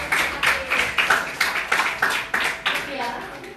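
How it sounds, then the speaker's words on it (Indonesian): A small school audience claps, a rhythmic series of distinct hand claps in fairly steady beats, with a voice speaking around them. "Oke, tepuk tangan."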